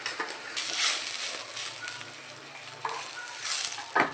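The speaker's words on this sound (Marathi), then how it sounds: "कांदा चांगला फ्राय झालेला आहे।" Onion fries in oil with tomato paste while being stirred, giving a steady soft sizzle with scraping spatula strokes that come and go throughout; no one speaks.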